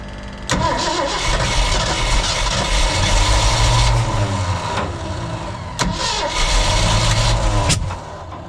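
A fire truck engine, run without an air cleaner, cranks and catches loudly up close, then runs roughly with a mid-pitched rumble and sharp bursts, cutting and restarting once before idling again.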